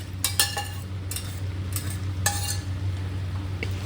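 Pork being stirred into masala in a pan for an Easter pork fry, with soft scraping and a few light clinks of a spoon against the pan over a steady low sizzle.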